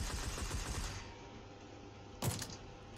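Gunfire in PUBG, a fast burst of sharp cracks in the first second, followed by a quieter lull and one more loud shot near the end.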